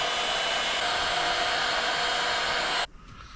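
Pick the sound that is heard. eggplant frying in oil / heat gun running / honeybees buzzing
heat gun running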